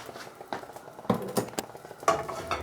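Oil hits a hot wok and is swirled around for a beef, spring onion and ginger stir-fry. Soft sizzling comes with light scraping and clinking pan sounds in a few short, uneven bursts.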